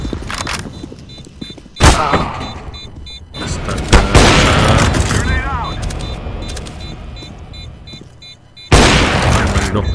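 Counter-Strike: Global Offensive gameplay with a flashbang and gunfire: three sharp loud bursts punctuate a busy stretch of shots and rumbling game noise, while a player talks over the action.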